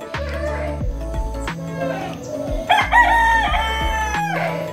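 A rooster crows loudly and close by in a farmyard at morning, with several long harmonic calls rising and falling, over a steady low background hum and other fowl nearby.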